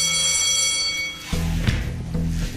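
An emergency alarm rings at an ambulance station in Vaslui, Romania: a steady, bright electronic ring for just over a second, then cut off and replaced by low rumbling room noise and handling.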